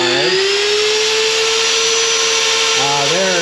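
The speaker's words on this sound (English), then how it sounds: "We're drilling 12mm holes in this angle iron." A power drill boring 12mm holes through steel angle iron at a scrap yard whines loudly and steadily at high pitch, its tone dipping and shifting as the bit bites near the end, very close and continuous.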